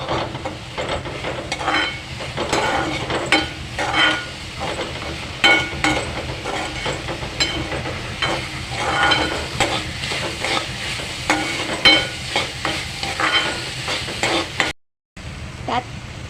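Onion and tomato sautéing in a pan over a fairly high flame for prawn masala: steady close sizzle with repeated scraping stirs of a spoon against the pan, continuous and fairly loud, with a brief cut near the end.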